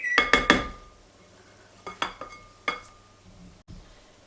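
Whisk or utensil clinking against a bowl while beaten egg white is folded together with the yolk for a soufflé omelet, a quick burst of three sharp clinks followed by a few scattered taps, close and alone.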